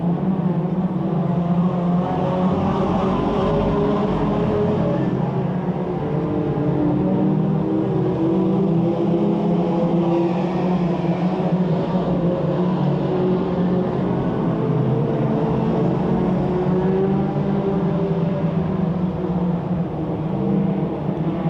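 Mini stock race cars roar around Petaluma Speedway in a steady, loud, continuous engine drone with no breaks, the sound of a full field circulating at speed.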